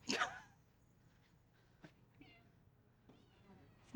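A single short cat meow sounds at the start in an animal shelter's isolation area, followed by quiet room noise and a few faint clicks and small sounds.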